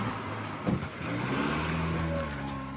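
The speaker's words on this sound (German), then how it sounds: "Der Wagen fährt an Girwitz vorbei." Car drives past in a German radio crime drama audio version, a steady close engine rumble with a brief bump, no speech over it.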